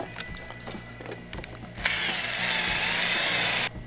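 Faint clicking and rattling give way to a steady high whine of a variable speed drill boring a hole in a Ski-Doo Gen 4 snowmobile for a couple of seconds before stopping abruptly.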